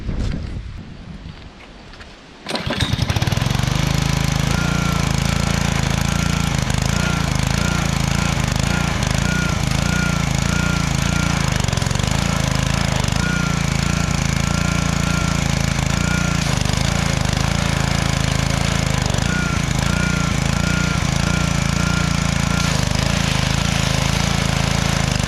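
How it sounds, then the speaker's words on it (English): Gas-powered pressure washer blasting a deer skull: a quiet start, then a loud, steady engine drone and hissing water spray that runs on unbroken at close range. "I'm gonna hit it with the power washer and we'll see"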